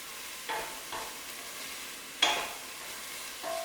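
Carrots and coriander being stirred in a pan, a few soft scraping strokes with a quiet sizzle underneath, spaced out and fairly faint.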